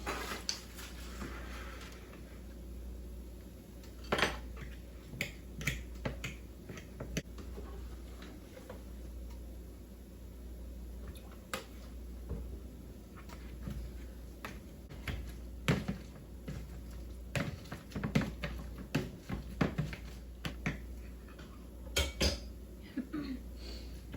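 Fork scraping and clinking against a dish while baked potatoes are mashed with butter and milk, a run of irregular close taps and scrapes over quiet background hum, no talking.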